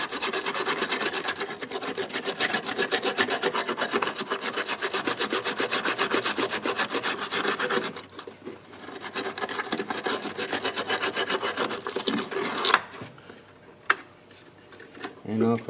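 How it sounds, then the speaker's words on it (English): A small wire brush scrapes corrosion off a car battery terminal on a 2013 Chevy Malibu, giving steady, close, rasping strokes that pause briefly before scraping resumes more quietly. "take a little wire brush here and try to scrape"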